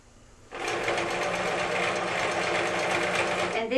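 A sewing machine starts up and runs steadily, stitching around a quilt ruffle in a fast, continuous mechanical whir, close and loud.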